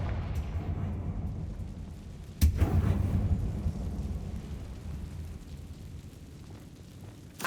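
A single blasting-spell explosion, Confringo, in Hogwarts Legacy inside a closed, tomb-like mine: one sharp boom followed by a rumbling decay over a steady low ambient drone.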